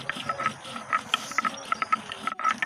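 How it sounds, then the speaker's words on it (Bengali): Whole spices being ground for a mutton korai curry, a rapid run of rough scraping and gritty clicks repeating in an uneven rhythm, close and moderately loud with no talk. "গোটা মশলা বেটে তুলে নেব।"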